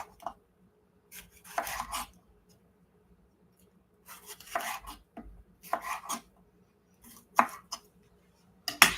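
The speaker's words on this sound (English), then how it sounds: "All right, I'm going to cut this pepper real quick." A knife chopping a pepper on a board, in several short bursts of quick cutting strokes separated by brief pauses, close and fairly quiet with no talk.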